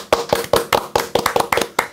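A small group claps in several quick, sharp bursts, close and loud, with uneven rhythm and short gaps between the volleys of hand claps.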